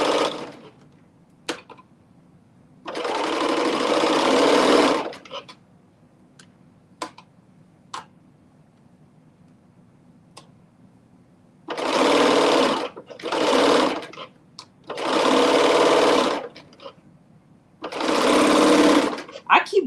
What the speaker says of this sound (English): I keep forgetting that I'm on my serger